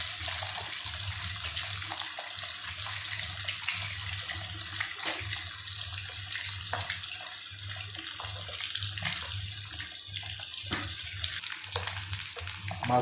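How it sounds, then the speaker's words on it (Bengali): Sea fish frying lightly in oil in a pan, a continuous bubbling sizzle with occasional crackles, steady and close throughout with no voices. "হালকা ভেজে নেব।"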